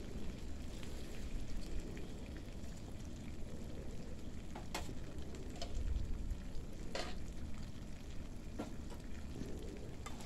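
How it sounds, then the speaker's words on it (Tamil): Onion, tomato and ginger-garlic paste fry in a kadai for mushroom gravy, giving a faint, continuous crackling sizzle with a few sharp clicks from stirring. "கடாயிலே வந்து நம்ம வந்து வெங்காயம், தக்காளி, இஞ்சி பூண்டு வெளியில் போட்டு நல்லா வதக்கிக்கலாம்"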